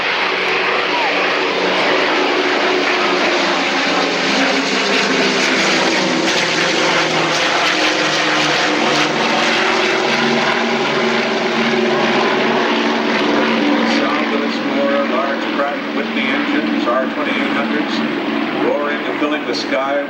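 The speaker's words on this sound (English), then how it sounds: "The Douglas" A Douglas DC-6 piston propeller airliner flies past at an air show, its loud, steady, droning engine roar filling the whole stretch without pause.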